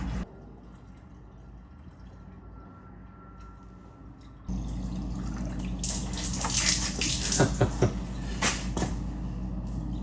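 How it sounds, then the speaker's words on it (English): Coolant pours into the radiator of a 1914 Model T Speedster, a quiet gurgling stream that starts partway through, swells with splashing and bubbling, and continues steadily close by, with no talking. "let's add coolant and make something more solid for the fuel"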